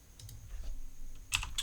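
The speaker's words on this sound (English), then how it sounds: "Sorry about the keyboard making lots of noise" Bursts of clicking keystrokes on a computer keyboard in a home live-stream setup, quiet irregular taps early then a louder rapid cluster near the end, close by with no talking.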